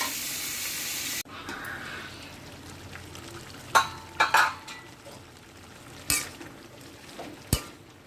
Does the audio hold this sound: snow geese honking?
no